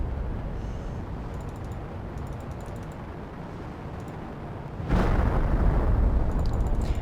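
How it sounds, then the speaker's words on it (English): A continuous low rumbling roar, then a sudden louder burst of explosion noise near the end that keeps rumbling, with faint high clicks scattered over it, from the video game The Planet Crafter. "Wow, you can actually see the explosions."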